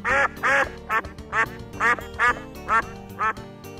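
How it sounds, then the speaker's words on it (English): A duck quacks in a children's animal guessing game, about nine loud nasal quacks in a quick, even series, close and alone. "Duck."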